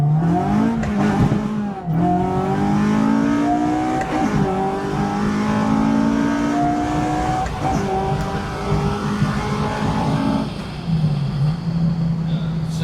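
Acura RSX Type-S with a K24 engine and a short shifter, pulling hard under acceleration: a loud, close engine rev climbs repeatedly through the gears with brief dips at the shifts, lasting about thirteen seconds with no talk.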